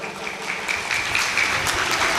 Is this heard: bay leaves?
no